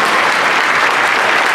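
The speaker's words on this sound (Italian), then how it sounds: "Facciamo un bel applauso per gli schermitori pedali che si giocano" Steady audience applause for sabre fencers during a men's team final, Korea against Italy, filling the hall evenly with dense clapping throughout, no voices on top.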